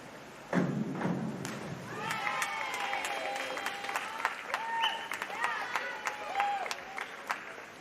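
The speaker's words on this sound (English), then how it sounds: "Big cheers from the crowd, from the audience for Amelie Harrop" Crowd at a national diving competition cheering and applauding for a diver after her final inward one-and-a-half somersault tuck, a sudden burst of sustained claps and shouts with a commentator talking over it.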